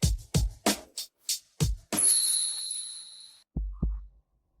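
A heartbeat sound effect in a Hindi drama about a cursed billionaire, with a run of deep regular thumps, then a sustained bright tone, and two final soft beats after a pause.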